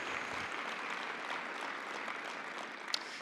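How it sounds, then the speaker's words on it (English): Audience applause in a conference hall, a steady, dense wash of many hands clapping that holds evenly from start to finish. "please, ladies and gentlemen, another round of applause for Will Rogers"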